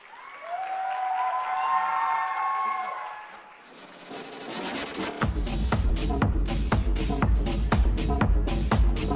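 Applause from a pageant audience at the Miss Grand Nakhon Phanom 2023 final, welcoming two guests on stage; a dense, loud wash of clapping swells in after a stretch of tonal background sound and continues steadily to the end.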